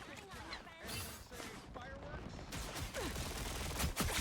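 Close gunfire and impact bursts from the video game Marvel Rivals come in quick clusters, growing denser toward the end, with a player talking over the action.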